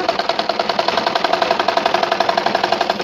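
Sewing machine running steadily while stitching the seam of a fabric Quran cover, with a fast, even mechanical rhythm of needle strokes, close and moderately loud with no talk.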